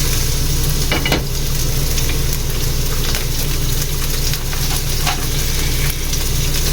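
A large heap of chopped onions frying in a pan, a loud, dense sizzle that runs continuously with occasional sharper crackles and stirring scrapes.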